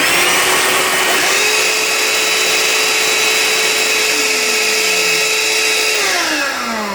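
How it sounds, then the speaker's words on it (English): Two compact cordless vacuums, a Milwaukee M18 and a Ryobi, run together close by, a loud sustained whine with layered motor tones, one pitch shifting downward toward the end as a motor winds down. "I'll turn on both of them and you can hear the Ryobi overpowers it in terms of how much noise it brings out"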